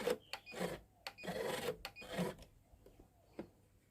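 Sewing machine running a long temporary stitch along a box pleated skirt in short bursts of rapid mechanical whirring, with quieter gaps between them and fainter handling noise near the end.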